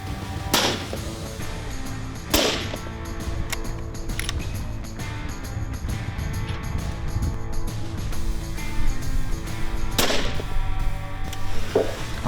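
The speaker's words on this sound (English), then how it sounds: "I only needed one shot, David." Sharp rifle reports, apparently from a Bergara rifle, crack out three times at a shooting setup, each an abrupt blast standing out against a steady rumbling background noise.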